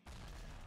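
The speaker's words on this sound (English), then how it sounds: "I'm just going to throw a grenade at his face." A grenade goes off in the video game Outta Gas: one loud, close, full-bodied explosive blast with a deep rumbling low end, lasting under a second with no voices over it.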